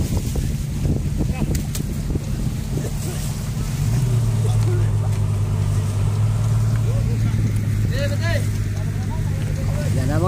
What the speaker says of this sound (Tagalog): abanti na yung makina